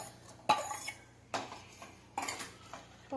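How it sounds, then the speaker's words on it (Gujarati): Soaked, washed poha tipped into a pot of sweetened milk with dry fruits for Sharad Punam dudh pauva, giving four separate clattering knocks of spoon and metal pot spaced about a second apart, close and fairly loud with quiet gaps between. "હવે તેમાં આપણે પૌવા ધોઈને મૂક્યા હતા તે નાખી દઈશું"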